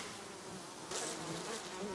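Swarming honeybees drone steadily around their hives in the Ghost of Tsushima video game, a continuous close buzz that swells slightly louder partway through, with no voices over it.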